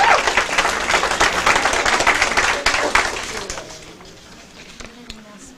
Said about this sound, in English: Round of applause for our board of directors.